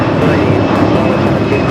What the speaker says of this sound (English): That is Air Canada 557 taking off to Vancouver on the A320.